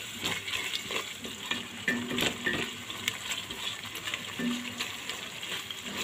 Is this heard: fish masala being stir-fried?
yes